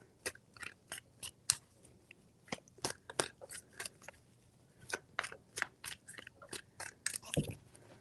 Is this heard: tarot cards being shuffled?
yes